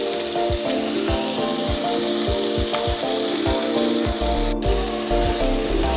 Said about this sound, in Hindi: अच्छे से मिक्स कर लेंगे और चिकन को गलने तक अच्छे से भून लेंगे।